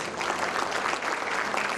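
A crowd at a university graduation ceremony applauds energetically, producing a thick, continuous roar of clapping that holds at a steady, full level from start to finish.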